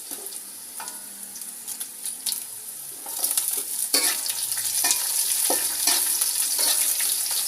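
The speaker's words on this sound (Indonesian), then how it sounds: "setelah bawang putih dan bawang merah digoreng setengah matang, campurkan cabai merah yang sudah diiris-iris juga." Garlic, shallots and sliced red chilies frying in hot oil: a constant bright sizzle that grows louder partway through, broken by scraping stirs of a spatula in the pan, close up with no talking.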